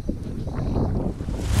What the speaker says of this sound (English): Stupid wind really just won't piss off.